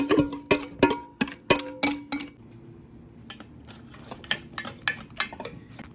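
Mini donut batter is strained through a sieve, starting with a quick series of sharp metallic clinks and taps against a bowl, then softer scraping and light knocks.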